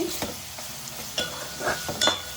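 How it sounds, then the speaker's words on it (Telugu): Onion frying and being stirred in a pan for a fenugreek-dumpling (methhallu pulusu) curry: a faint, steady sizzle broken by a few sharp scraping stirs of a spoon, close and with no voices. "కాస్త వేగాలండి ఉల్లిపాయ"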